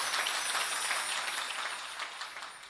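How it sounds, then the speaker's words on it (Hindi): A large audience at a Khatu Shyam katha gathering in Sriganganagar breaks into loud, dense, continuous clapping that fades slightly toward the end. There is no talking over it. "ऐसी जोरदार ताली बजाइए कि वहां तक आपका संदेश जाए।"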